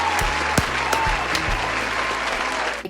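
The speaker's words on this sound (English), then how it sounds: "Clap it up for Current Affairs" Dense, steady applause from a group, many hands clapping close together at an even level for the whole stretch, with a few sharper individual claps standing out.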